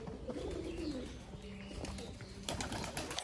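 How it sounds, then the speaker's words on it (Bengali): Pigeons cooing nearby after feeding, several soft, low rolling coos overlapping in a steady murmur, with a brief rustle or flutter near the end. "খাবার খাওয়া হয়ে গেছে বলে এগুলো এইদিকে চলে আসছে পায়রাগুলো"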